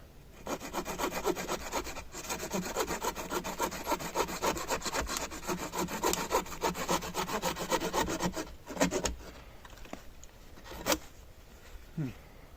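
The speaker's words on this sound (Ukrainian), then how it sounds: "і пиляємо" A hand saw rasps steadily back and forth through firewood outdoors in winter in quick, even strokes, close and loud, then stops with a few knocks and rustles.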